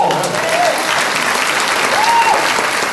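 A crowd at a K-8 school ribbon-cutting ceremony claps and cheers, making a loud, sustained roar of applause with raised voices and a couple of whoops or whistles rising above it.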